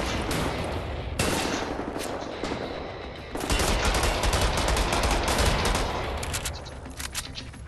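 Sustained bursts of automatic gunfire from the video game Wolfenstein: The New Order, loud and dense, with a heavier, denser volley taking over partway through and continuing steadily to the end.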